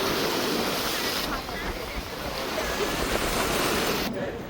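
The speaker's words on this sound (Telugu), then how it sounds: "విండ్ ఎక్కువ ఉంది, బాగా గాలి." Strong wind roaring on a ferry at sea bound for Coral Island off Pattaya, Thailand, a loud, continuous, buffeting rush mixed with wave wash that barely lets up.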